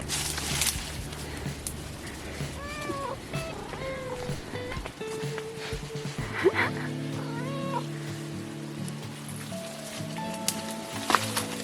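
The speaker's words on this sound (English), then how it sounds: "She's the most ridiculous cat in the world." A cat meows again and again indoors, close by and fairly loud, its drawn-out and rising cries scattered through the stretch over a soft, steady background patter like light rain.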